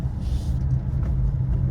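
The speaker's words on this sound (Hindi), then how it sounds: "भगाने पे टायर की जो आवाज़ आ रही है।" Tyre noise from a cab car on the move while accelerating, with a suspected wiring or alignment fault, comes through as a steady close low rumble and road drone inside the vehicle.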